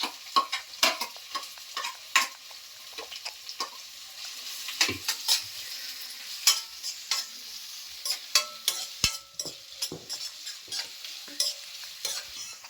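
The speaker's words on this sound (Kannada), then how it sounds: "ಅದಕ್ಕೆ ಒಂದು ಸ್ವಲ್ಪ ಎಣ್ಣೆಯೊಳಗೆ ಹಾಕಿ ಫ್ರೈ ಮಾಡ್ಕೊಬೇಕ್ರಿ ಇದು ಮೆಣಸಿನ್ಕಾಯಿ." Green chilies and onions fry in a little oil for chatpat avalakki, a spoon scraping and stirring through them in repeated sharp strokes over a soft sizzle, close by and without talk.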